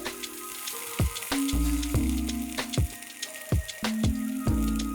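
Green chillies, curry leaves, chopped garlic and ginger sautéing in a pot for dal khichdi tadka, a crackling sizzle with hard knocks and scrapes of a spoon against the pan, close and without speech.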